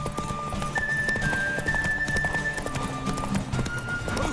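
Horse hooves clip-clopping at a steady gallop in The Witcher 3: Wild Hunt, with a brief whinny and game music and ambience running underneath throughout.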